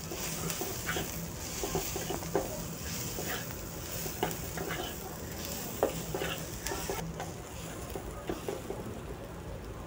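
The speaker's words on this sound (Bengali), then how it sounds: "লবণ হলুদ দিয়ে আমি ভালোভাবে ভেজে নেব পেঁয়াজগুলো।" Onions frying with salt and turmeric in a wok: a dense, continuous sizzle with repeated clicks and scrapes of stirring, close and moderately loud, with no talking.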